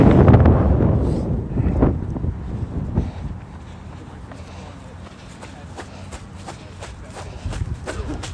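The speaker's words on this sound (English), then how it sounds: "it is so windy." Strong wind buffets the microphone with a heavy, roaring rumble that eases slightly later, while a runner talks over it outdoors.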